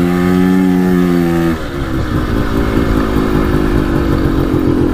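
A quad ATV engine with a cheap top-end piston and cylinder kit runs loud and close, a steady high buzzing note that drops suddenly to a rougher, lower clattering idle-like drone.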